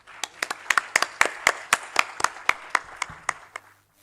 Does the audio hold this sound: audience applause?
yes